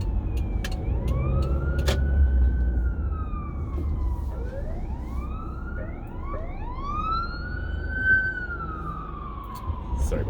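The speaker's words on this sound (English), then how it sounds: "There's an ambulance." An ambulance siren wails in rising and falling sweeps, passing fairly close over a background of traffic rumble.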